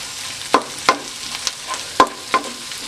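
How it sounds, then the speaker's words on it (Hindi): Curry leaves crackle and spit in hot oil while lauki chana dal is being prepared, a soft continuous sizzle broken by several sharp pops and spatters, close and clear with no talk. "अब मैं इसमें ऐड करूंगी कुछ पत्ते कड़ी पत्ते के"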